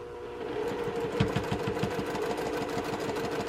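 A sewing machine stitches a quilt block seam in a quick, even run of needle strokes, steady mechanical chatter up close with a motor hum underneath and no voices.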